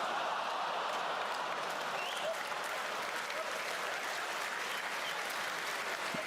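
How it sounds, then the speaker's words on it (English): Comedy audience applauding and cheering, a dense, steady wash of clapping that holds at an even loudness throughout, heard from within the crowd. "you get a lot of people that are clapping and cheering and things like that"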